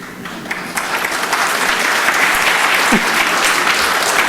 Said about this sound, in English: Don't applaud me, applaud your Congress people